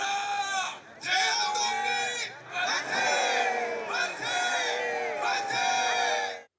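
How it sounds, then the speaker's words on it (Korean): Residents gathered for a 100th-anniversary March 1st Movement commemoration shout Korean independence manse cheers in loud, sustained collective bursts, waves of many voices rising and falling close by for several seconds. "대한독립 만세를 외쳤습니다."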